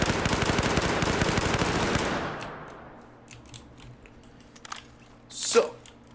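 An ACWR rifle fitted with a muzzle brake fires in Battlefield 4: a rapid automatic burst of tightly spaced shots lasts about two seconds, then trails off into quiet with a few small clicks and a short noise near the end.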